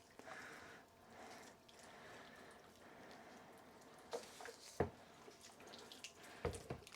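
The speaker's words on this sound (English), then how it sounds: "This is just cold water from the tap now." Cold water runs steadily from a kitchen tap with a broad rushing hiss, broken near the end by a few sharp clinks and knocks close by.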